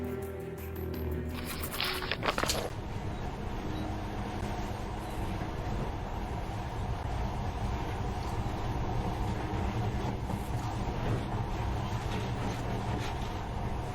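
Monorail train in the video game Metro Last Light Redux, a continuous rumbling, rattling run with a steady mechanical drone after a brief clatter at the start.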